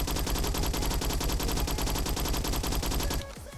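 A Skorpion gun in the Roblox game Bad Business fires in a rapid, unbroken full-auto burst, loud and close, then cuts off abruptly near the end.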